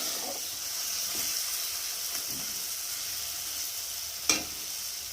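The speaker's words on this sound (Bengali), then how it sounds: "একটু ভালো করে একটু ভাজা ভাজা করে নেবো" Tomatoes fry in a pan with a soft, steady sizzle and gentle hiss, punctuated by a few quiet stirring scrapes and one sharper clink of a utensil against the pan near the end.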